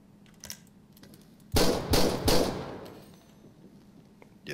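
Gunshots during a quick-draw reaction test in GTA 5, a close, loud burst of three sharp shots in quick succession after quiet clicks.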